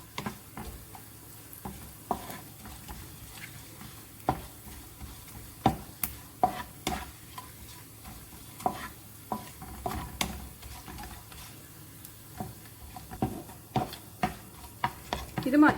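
Lentils or other ingredients for parippu pradhaman frying in a pan until golden brown, a soft steady sizzle with frequent sharp clicks and taps of stirring throughout, fairly close and without talk.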